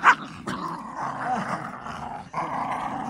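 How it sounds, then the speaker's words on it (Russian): A puppy growls and barks playfully, opening with a sharp yip, then rumbling, throaty growls that continue close and steady, with a brief break before resuming. "Видишь, это радость щеночья"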